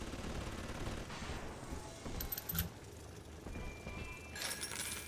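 Automatic turret gunfire in Bioshock 2 crackles in rapid bursts around the middle and again near the end, with a metallic, clinking texture over a steady game background.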